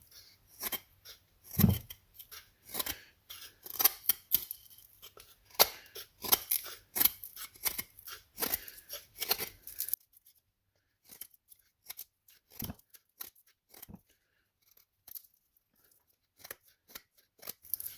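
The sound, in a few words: steel knife whittling a pine block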